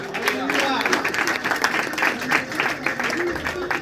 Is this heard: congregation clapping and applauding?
yes